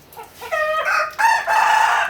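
A rooster crows loudly and close by, a single drawn-out cock-a-doodle-doo in rising, broken phrases, with no talk over it.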